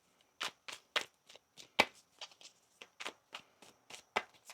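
Tarot cards being shuffled by hand, a quick series of crisp, close riffling snaps and soft slaps, about a dozen distinct bursts in an uneven rhythm against a quiet background.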